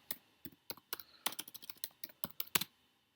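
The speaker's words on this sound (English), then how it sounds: "you are typing" Someone types on a computer keyboard in the quiet, a close run of distinct, uneven key clicks and taps, about a dozen strikes with short pauses between.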